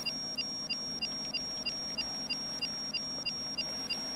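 Repeated alarm beeps from a sinking ship in a video game, sounding in an even, steady rhythm about every third of a second over a low background hum.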